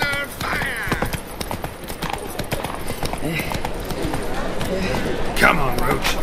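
Horse hooves clip-clop steadily through a busy town in The Witcher 3 as the horse rides through Novigrad, with game characters talking and crowd noise around the rhythmic footfalls.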